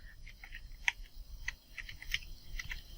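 Fingers type on a computer keyboard into a web browser, producing a quick, irregular run of soft, close key clicks, some louder than others, with no voice.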